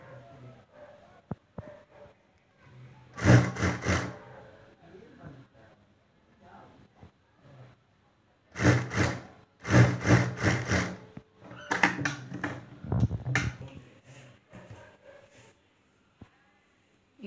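A sewing machine stitches folded blouse fabric for a back neck design in several short rapid bursts of needle chatter, close by, separated by quieter handling sounds and talk.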